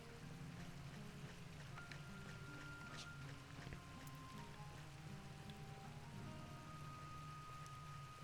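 Steady, even rain hiss falls across a Final Fantasy XI game scene, with soft sustained musical tones drifting above it throughout.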